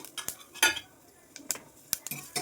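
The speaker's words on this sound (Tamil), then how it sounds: "நல்லா எண்ணெய் காஞ்சதுக்கப்புறம் இதை போட்டுக்கோங்க." Whole spices such as cloves, cardamom, stone flower and fennel dropped into hot oil for hotel-style white kurma, heard as scattered sharp clinks and scrapes of a utensil against the pan with light crackling between them.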